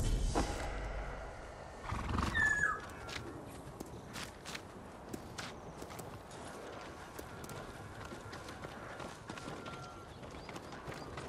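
A horse in the video game Ghost of Tsushima gives a loud neigh near the start, followed by steady hoof clip-clops on the ground and a quieter outdoor backdrop, with no talking.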